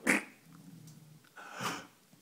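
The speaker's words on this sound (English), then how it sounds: "It makes him sneeze like this." A Cocker Spaniel with a cold gives two short, close sneezes about a second and a half apart, with faint snuffling breaths between them.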